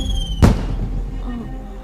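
A signal flare firework goes off in an outdoor period martial-arts drama scene, giving one sharp whooshing burst that quickly decays, with a low background hum.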